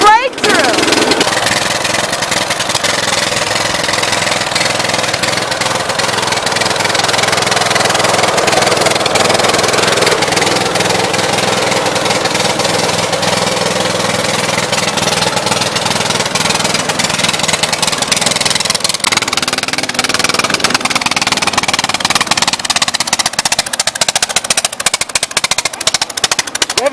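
A Craftsman engine runs close by at a loud, steady idle, giving a continuous rough mid-range drone that dips briefly near the end. Voices come and go over the running engine.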